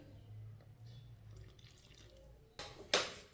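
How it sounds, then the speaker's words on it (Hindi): Water goes into a bowl of gram flour (besan) batter for bread rolls: quiet kitchen background, then a short splashing pour with a brighter gush near the end. "थोड़ा सा पानी डाल लेंगे।"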